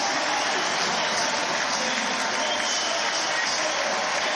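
A dense crowd at a London track cycling finale applauds and cheers continuously, a loud, even wash of clapping filling the whole stretch.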